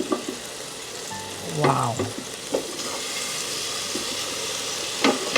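A T-bone steak sizzles on a Ninja Foodi indoor grill, a steady hiss and crackle throughout, with brief scraping clinks and a short spoken exclamation over it.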